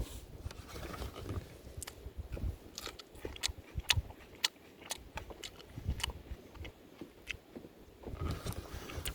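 Raw samphire, a salty wild coastal plant, being chewed up close on a riverside kayak camping trip, soft crunchy bites and wet mastication in irregular bursts with faint outdoor background.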